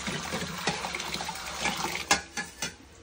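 Tap water runs and splashes during dish washing, with several sharper clinks and knocks of dishes rising over the steady flow; a child and an adult speak around it.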